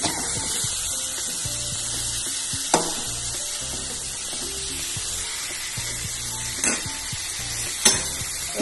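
Pieces of sarsha fish and fish heads going into hot spiced oil, setting off a steady crackling sizzle with a few sharp spits and pops, close and continuous with no talking.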